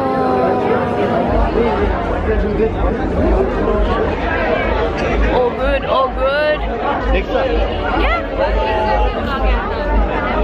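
A crowd builds up ahead of a concert in Kathmandu, a loud, dense babble of many voices with cheering. Nearby people talk over it throughout.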